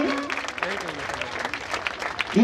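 Audience clapping at a village theatre festival in India, steady dense applause filling the whole moment, with a few voices faintly mixed in.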